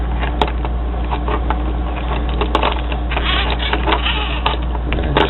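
A hand-crank USB charger being turned steadily gives a continuous mechanical whir and rattle, with a few sharper clicks, close up and alone.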